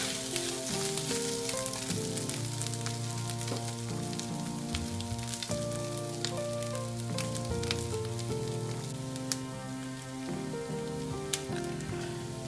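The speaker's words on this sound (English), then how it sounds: "When onion wilted, add 1 teaspoon ginger garlic paste and stir it." Onion frying with ginger garlic paste sizzles steadily in a pan while a utensil stirs it, with occasional clicks and scrapes over the continuous crackle.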